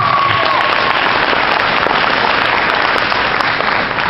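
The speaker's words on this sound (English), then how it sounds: "Give them a round of applause, please." Sustained, dense applause from an audience at a Chief Master Sergeant's 30-year retirement ceremony, honoring the speaker's family, steady and loud throughout with no pause.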